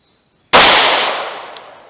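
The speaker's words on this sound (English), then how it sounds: "now let's see what we get in the Diamondback pistol" A single loud 9mm gunshot from a short-barreled Diamondback pistol firing Speer Gold Dot ammunition, a sharp close crack with a long decaying ring-out, preceded by silence.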